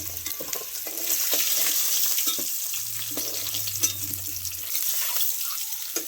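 Potatoes and eggs fry in hot oil for an egg biryani, a steady broadband sizzle running throughout with occasional stirring scrapes and clinks, close and fairly loud, no voices.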